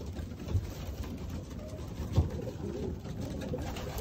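Racing pigeons in a loft give a couple of low, soft coos at a steady background hum, with no voices.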